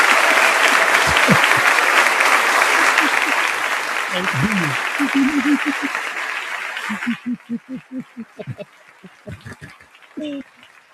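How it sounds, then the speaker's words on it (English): A studio audience bursts into loud, dense applause to greet a guest on a comedy talk show, with laughter and talk mixed in, before the clapping stops abruptly around seven seconds and scattered speech and a few claps remain. "Give her a big, warm welcome."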